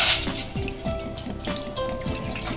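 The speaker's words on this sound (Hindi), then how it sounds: "अभी हम गैस ऑन करते हैं और इसमें थोड़ा सा पानी दे देंगे नीचे" Water pours into a pot on a gas stove to steam muan pitha made with jaggery, a close, continuous splashing trickle with faint metallic knocks throughout.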